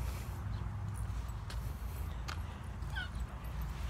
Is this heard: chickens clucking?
no